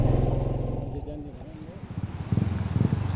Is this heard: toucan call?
no